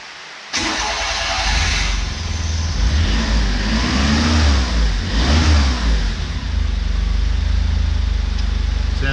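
A Mitsubishi 3G83 three-cylinder engine in a Japanese mini truck, just after a timing belt replacement, cranks and catches, then rises and falls through a few loud revs before settling toward idle, heard up close.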